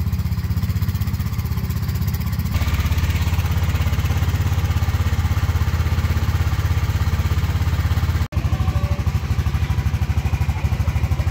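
A small-engine ride at a theme park putters along like a tiny lawnmower, a loud, close, steady rattling drone that briefly cuts out near the end and then resumes.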